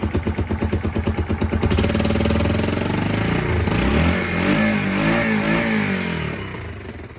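The single-cylinder engine of a Kawasaki KLF300 Bayou 4x4 quad, which has been backfiring, putters in a rhythmic idle, then revs up and runs steadily before easing off, loud and close.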